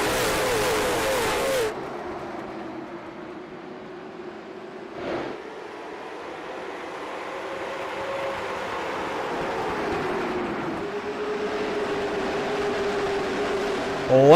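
Late model stock cars roar around a track in the iRacing video game at Las Vegas, a steady engine drone that rises and falls in pitch as the field gets underway, with a brief burst near the start.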